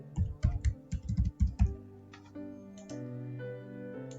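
A password is typed on a computer keyboard: a quick burst of about a dozen crisp, close key clicks, followed by a soft sustained tone that lingers to the end. No one speaks.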